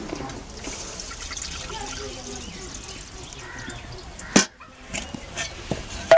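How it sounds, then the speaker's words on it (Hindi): Cow urine, about 300 ml, is poured into a hot kadhai, a soft watery trickle and splash heard up close beneath talking voices. "300 ml गौमूत्र डालेंगे।"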